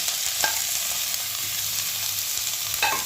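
Mixed vegetables for navratan curry sizzle steadily in a hot kadai with salt and ground spice paste, broken by a few scraping stirs of a spoon against the pan; no talking.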